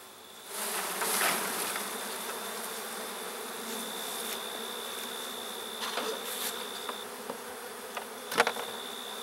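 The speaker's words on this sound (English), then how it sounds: "gonna shake the bees off this one" Dense, steady buzzing of many honeybees close by at a drone-laying hive being requeened, a continuous drone with a few brief knocks and bumps near the end.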